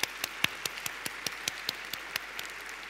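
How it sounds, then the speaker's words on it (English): Audience applause follows a panel session at the Startup Istanbul 2016 conference, heard as a steady, moderate clapping with distinct individual claps over about three seconds, no talking. "Let's give a round of applause to Mr. Adi Sabanci."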